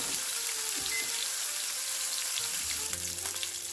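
Skinless salmon sears in a hot pan, giving off a loud, dense, continuous sizzle up close with light crackling spatter throughout and no voices.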